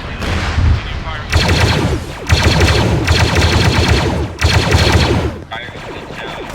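Loud, sustained bursts of automatic gunfire in a military simulation game, several long volleys separated by brief gaps, dense and close.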